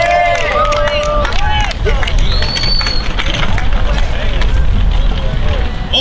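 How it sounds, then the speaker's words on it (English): Loud crowd applause and cheering for a stand-up comedian at a New York comedy show, dense continuous clapping with whoops and excited voices throughout. "Guys, give a big round of applause for New York City-based comedian James"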